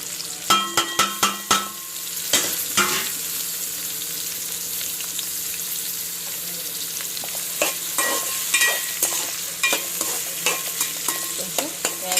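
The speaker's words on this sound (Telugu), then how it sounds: "ఇందులో నూనె కాగంగానే ఆనియన్స్ వేసేసుకున్నాను." Onions and green chillies frying in hot oil for mutton curry, a steady close sizzle broken by sharp, repeated scrapes and taps of a spatula stirring the pan, with no talk.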